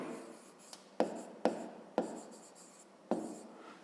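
A pen writing by hand on paper during a grade-5 maths exercise, with several short scratchy strokes and taps spaced about half a second apart, close and fairly quiet, no talk.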